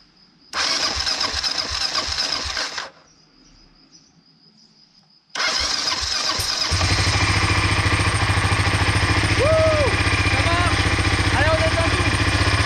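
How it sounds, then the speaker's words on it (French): Car engine with a freshly restored carburettor, radiator removed, cranks to life, cuts out briefly, then cranks again and settles into a loud, steady run close by; no talk over it. "je vais juste essayer de faire démarrer un peu le moteur"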